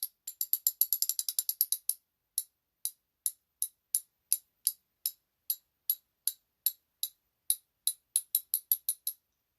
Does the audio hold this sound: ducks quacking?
no